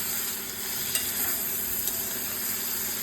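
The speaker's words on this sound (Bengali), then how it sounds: "কড়াইয়ে যে তেলটা বেঁচেছিল তার মধ্যে চিংড়িগুলো দিয়ে নেড়ে চেড়ে নিলাম।" Prawns sizzle in leftover oil in a wok as they are stirred: a steady, dense hiss throughout, with a couple of faint utensil clicks.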